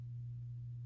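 A steady low 100 hertz sine test tone drones alone and unchanging, used for measuring the impedance of a Thiel CS1.5 loudspeaker.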